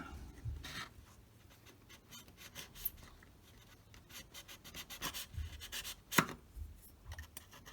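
Small craft knife or scissors trimming a few millimeters off a plastic part of a vintage Fokker Dr1 model kit, giving quiet close scraping and snipping strokes with a few sharper clicks, no talking.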